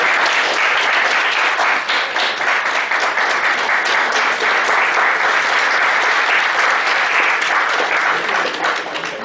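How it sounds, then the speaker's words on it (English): A seminar audience breaks into loud, sustained applause, a dense wash of many hands clapping steadily for several seconds without a pause. "Huge round of applause."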